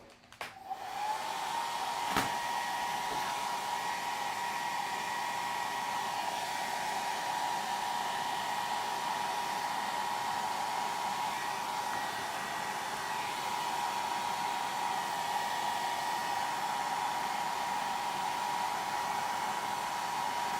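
A hair dryer runs steadily to dry a watercolor painting of a tiger lily, its whirring airflow with a constant tonal whine starting after a brief click and continuing close and loud throughout.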